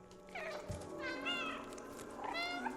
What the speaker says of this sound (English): Press circle to meow.